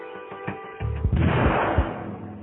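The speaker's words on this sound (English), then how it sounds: "It's turned almost instantaneously into gas, hence the nice explosion." Nitroglycerin detonating in a sharp blast, a few preliminary thumps followed by a broad booming burst that rolls on briefly.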